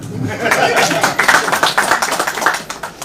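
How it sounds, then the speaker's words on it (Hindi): At a press meet for a film, an audience breaks into dense, lively clapping that carries on for a few seconds. "तो ये थैंक यू एक ताली के लिए"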